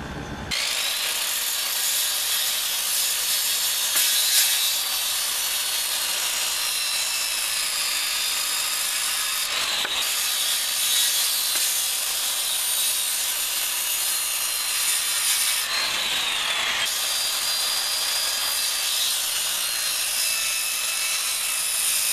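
Wood being sawn for deck steps built over crooked concrete, a long continuous buzzing cut with a couple of brief pauses, close and steady throughout with no talking.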